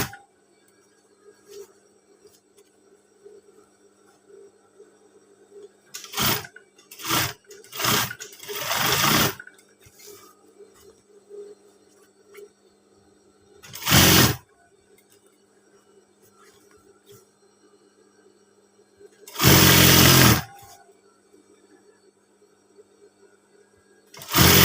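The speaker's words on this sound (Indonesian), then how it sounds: "cara menjahit baju pas bagian kerah agar lebih halus, rapi," A sewing machine stitches the collar of a school uniform shirt in several short loud bursts, a few quick ones close together and then two longer runs spaced apart, with quiet room hum between them.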